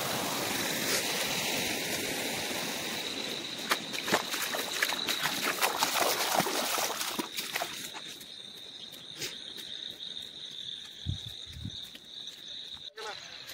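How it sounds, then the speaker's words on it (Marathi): Runoff water pours off village farm fields after heavy rain, making a steady, rushing wash of moving water that holds at a moderate level, with some faint brief knocks near the end. "हे रानातून येणारं पाणी, शेतकऱ्यांच्या शेतातून येणारं पाणी"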